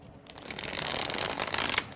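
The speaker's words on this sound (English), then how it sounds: "I still get a pretty good shuffle in there" A Star Tarot deck is riffle-shuffled up close. The papery rustle builds into a steady two-second ruffle and ends with a soft snap.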